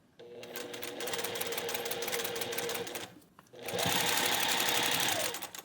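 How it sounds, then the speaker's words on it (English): A sewing machine stitches a quilt block seam in two steady whirring runs, close and clear, with a brief pause between bursts. "Let's sew that seam."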